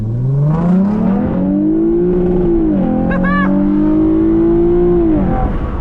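A modified Lexus IS350 engine revs loudly up close, its tone climbing, holding high, then dropping, with a brief sharp chirp in the middle and a steady rumble throughout.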